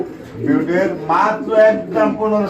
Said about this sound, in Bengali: জলিল ভাই আমরা কিন্তু দেখতে পাচ্ছি এই খুবটার মধ্যে টোটালে দুই পেয়ার কবুতর আছে